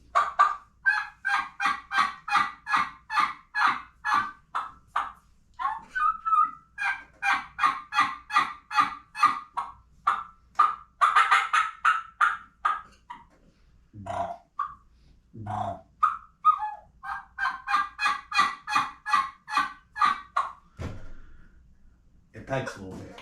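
A turkey call is worked in long runs of sharp, rhythmic yelps and clucks, fairly close, with short pauses between sequences.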